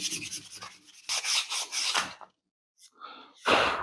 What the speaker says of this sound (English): let me hit that with some sandpaper